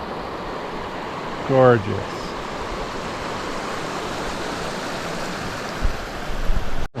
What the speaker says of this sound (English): Let's look at those waterfalls coming down that canyon.